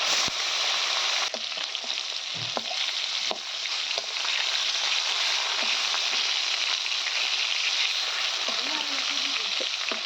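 Spiced fish frying in hot oil in a wok, a loud, dense, continuous sizzle with occasional utensil knocks and stirring sounds, and a voice speaking briefly underneath.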